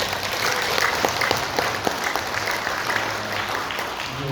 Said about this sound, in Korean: 여러분 박수 한번 쳐드릴게요